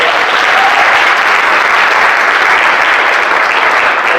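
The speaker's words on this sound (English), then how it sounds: "Give her a round of applause." A conference audience claps loudly and steadily for a city's 5th Ward councilwoman, a close, dense wall of applause that holds at full strength from start to finish with no voices over it.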